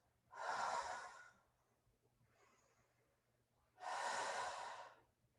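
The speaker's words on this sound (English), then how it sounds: "inhale, exhale, inhale." A person breathing during a pilates hip-lift exercise with a ball squeezed between the thighs: two strong, airy breaths, one near the start and one near the end, with a softer breath between them, close and clear, without speech.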